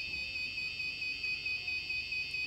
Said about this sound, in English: the buzzer activates and starts making a sound.